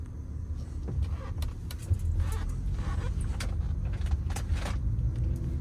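A Nissan 240SX S13 drives on the road out of Brooklyn, heard from inside as a steady low engine and road rumble with occasional small rattles and clicks, continuous and moderately loud.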